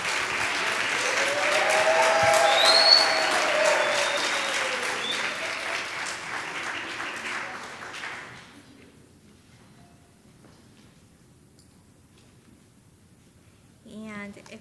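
Audience applause at a Latino community recognition event in Columbus, steady and full for about eight seconds, then fading to near silence with a brief faint sound near the end.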